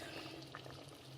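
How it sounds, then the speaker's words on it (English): Tomato and onion mix simmering gently in a pot over low heat for an African chicken dish, a steady soft bubbling hiss that stays constant and quiet throughout. "I'm boiling it at a very low temperature"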